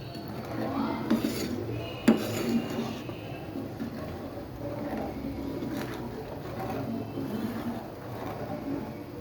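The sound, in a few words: stirring suji halwa with a spoon in a pan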